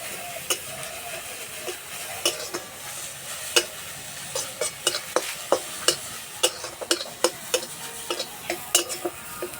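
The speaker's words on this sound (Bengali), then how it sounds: "গাজর কিছুক্ষণ ভেজে নেব।" Grated carrots with a cardamom pod fry in a pan for a sweet pitha filling, a soft steady sizzle broken by frequent sharp scraping clicks of a spatula stirring, close up with no talking.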